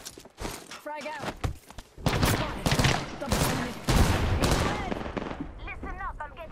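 Gunfire in an Apex Legends match, dense bursts of automatic shots and impacts packed into a continuous loud barrage, with a voice speaking over the shooting.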